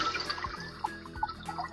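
Water is poured into a cooking pot holding sweet potato, giving a short run of gurgling, bubbly splashes with small drip-like plinks, quiet and with no talk.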